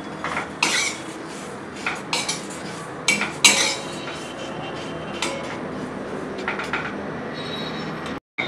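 Oats dry roasting in an empty pan are stirred with a utensil, giving scattered metallic clinks and scrapes over a soft continuous rustle, close by and with no talking.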